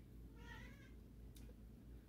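A house cat meows once in a short, faint call over a steady low indoor hum, with a brief high click soon after; no one speaks.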